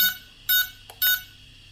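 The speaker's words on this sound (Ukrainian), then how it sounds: "чому в мене при включенні сервомотори пищать, коли дрон не заармлений" Three short electronic beeps from a drone's servo motors at power-on, in an even rhythm, high-pitched and clear, with a faint mechanical whir between them.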